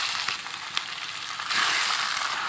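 Squid sizzles in a pan with garlic and onion, a bright, steady hiss with a couple of sharp pops and a louder surge midway, close and without speech.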